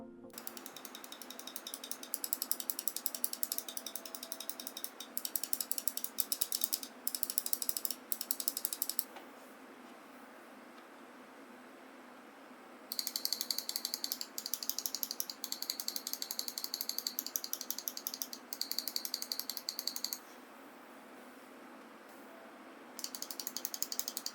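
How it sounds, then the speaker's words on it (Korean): Bursts of rapid, crisp mouse button clicks from Razer Viper series mice with optical switches come in several clusters separated by quiet pauses, close and sharp, with no voices. "3개의 바이퍼 시리즈 전부 클릭 소리 한번 들어보겠습니다"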